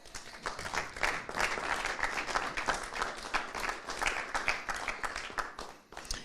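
Crowd applause for the players after a World Championship doubles pool final, a dense, steady clapping from an indoor audience that carries on and fades at the end.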